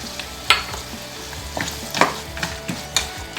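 Peanuts and sesame seeds sautéing in a pan for a coconut chutney, with soft sizzling beneath a few sharp scrapes and clicks of stirring spread across the moment, close and moderately quiet.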